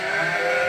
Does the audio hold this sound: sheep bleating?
yes